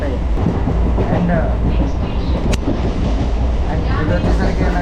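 A Hyderabad MMTS local train runs from Vidyanagar, heard from inside the carriage as a loud, constant low rumble with wheel clatter and a brief sharp click partway through.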